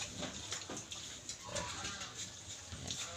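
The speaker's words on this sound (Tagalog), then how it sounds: "So mga kaprobinsya, yung mga native pigs, kinursbreed namin sila kasi mas maganda yung ano yung kanilang ano may ibato sila mga kaprobinsya sa mga sakit." Crossbred native pigs on a provincial farm grunt and snuffle repeatedly at close range, fairly quiet, with no talking.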